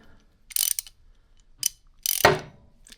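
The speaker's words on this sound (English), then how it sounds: "you're going to apply the socket wrench, set it in all the way, and you're going to torque it down" A socket wrench ratchets on a spark plug of a Toro mower in three quick bursts of crisp clicking, the last one longer and heavier, close up in a quiet space.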